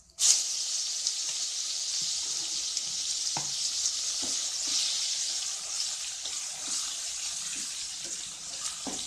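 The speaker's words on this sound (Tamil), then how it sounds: "எல்லாத்தையும் நல்லா வதக்கணும்." A ground paste of mint, coriander and curry leaves, with urad dal and asafoetida, sautés in hot oil with a steady, close hiss and sizzle, punctuated by occasional soft scrapes of stirring.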